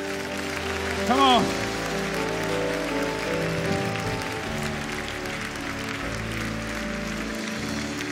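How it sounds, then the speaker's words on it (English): A church congregation at a believers' convention applauds as a steady, hissing wash of many hands, blended with music and a preacher's voice talking over it. "Give the Lord another hand clap."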